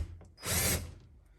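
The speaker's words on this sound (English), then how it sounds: "take your Phillips bit on the drill, line up these holes to the anchors," A power drill with a Phillips bit whirs briefly as it drives a screw into a wall anchor, a single short close burst of motor noise with light mechanical clicks before and after.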